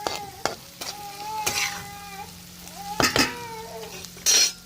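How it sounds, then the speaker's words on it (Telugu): Ivy gourd (dondakaya) fry cooks in a pan with a continuous soft sizzle. Sharp stirring clatters come at intervals, and a few gliding, cat-like tonal cries sound over the frying in the background. "దొండకాయ ఫ్రై కూడా అవుతుంది"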